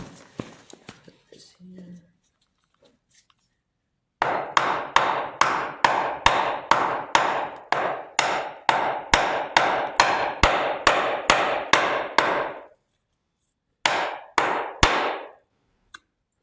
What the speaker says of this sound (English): I'm going to use a wood block and a hammer and try to pop this cover off